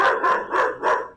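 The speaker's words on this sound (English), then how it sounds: "Sorry, that's my dog." A pet dog barks four times in quick, evenly spaced bursts, close and loud, each bark sharp with a brief fall-off, and no voices over it.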